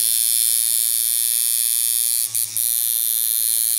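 A Sidewinder V6.1 rotary tattoo machine runs with a steady, buzzing electric whir and a constant hum that dips briefly in the middle, close and alone.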